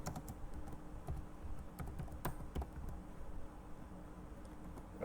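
Rapid keystrokes on a computer keyboard while entering a username into an SQL table, soft irregular clicks in quick bursts across a few seconds, close and fairly quiet, with no speech.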